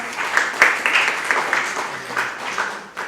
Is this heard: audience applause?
yes